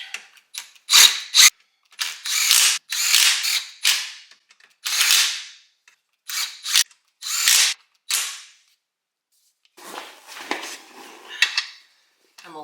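A hand ratchet tightens bolts on a golf cart while working under the vehicle, giving loud, close bursts of rapid clicking strokes in repeated runs with brief pauses between.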